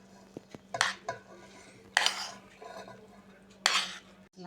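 Minced meat being mixed with boiled rice in a metal dish for xasip, with several sharp scraping and clinking strokes of a utensil against the bowl, spaced irregularly between quiet gaps, close and alone with a faint steady hum beneath.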